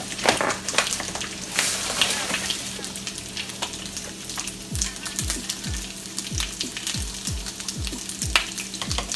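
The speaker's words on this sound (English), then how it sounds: "So, put in a cup of grits." Grits are poured into a pot of boiling water on a stove, giving a steady bubbling hiss throughout with a run of short, regular thumps and scrapes in the second half as the grains go in.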